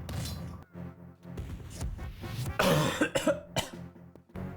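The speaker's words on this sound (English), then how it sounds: "I think this is the first time a game has frustrated me so much that I get a cough." A person coughs several times in a row while playing a game, a cluster of close, harsh bursts with a rougher, louder fit near the middle and a few quieter coughs before and after.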